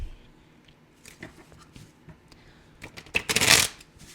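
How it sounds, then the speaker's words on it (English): A thick linen-cardstock tarot deck is shuffled, with soft scattered card clicks building to a loud riffling burst near the end. "it's linen cardstock, so it shuffles really nice"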